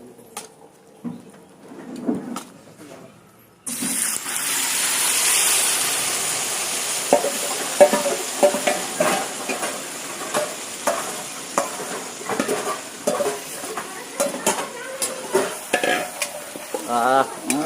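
Ginger-garlic paste and dry spices stir-fry in a kadai: quiet clinks at first, then a sudden loud sizzle as the spices go in, followed by repeated scraping stirs over continuous frying.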